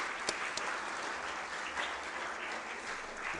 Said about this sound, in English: let's have a round of applause for our faculty and staff and current students